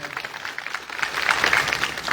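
Scattered, moderately loud clapping from a crowd at an Aam Aadmi political speech in Gujarat, building slightly toward the end without any talk over it.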